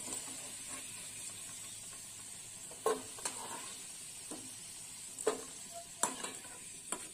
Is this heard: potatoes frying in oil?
yes